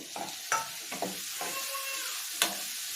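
Tomatoes drop into golden fried onions for a soya chunk gravy, sizzling steadily in the pan with several scraping stirs and a sharp clink near the end.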